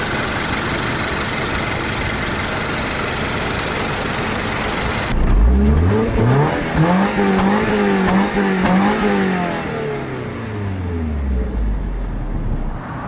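A 2023 Subaru BRZ's 2.4-litre naturally aspirated flat four-cylinder starts up and revs. Its throaty note climbs and falls in several loud, close blips, then settles toward idle, after a stretch of steady background noise.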